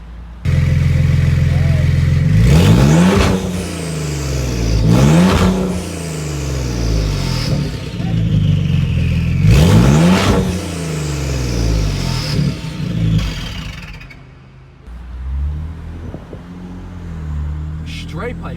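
Car fitted with aFe equal length catless downpipes revs hard several times, loud deep exhaust bursts rising and falling with crackles between pulls, close by.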